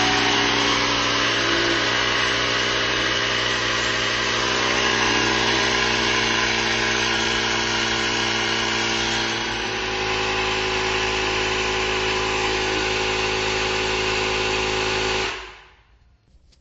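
A Ryobi R18MI-0 battery compressor inflating a car tire to 39 PSI, a loud steady motor drone with a constant buzzing pitch that runs about fifteen seconds and then stops abruptly.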